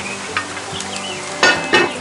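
Mirepoix vegetables with celery sizzle steadily in a Dutch oven, a soft continuous frying hiss broken by a few sharper bursts as the pot is stirred.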